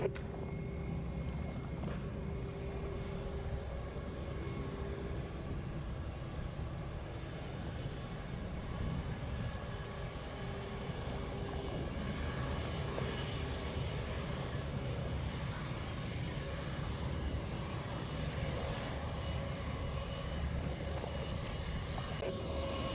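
A Boeing 737-800 airliner on short final to land at Montego Bay, Jamaica, sending a steady, broad engine roar and rushing hum that stays fairly even across the whole stretch, with no talk.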